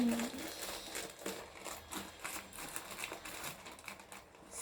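Crinkling and crackling of a parcel package being opened up close, with rapid tapping and rustling bursts, while a voice speaks quietly underneath.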